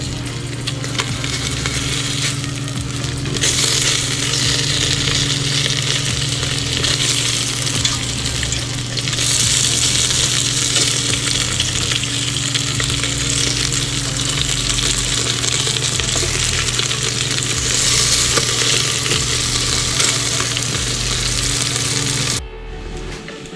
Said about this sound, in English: then we'll get this bacon cooked up first